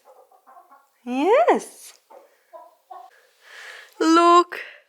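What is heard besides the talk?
bantam chickens clucking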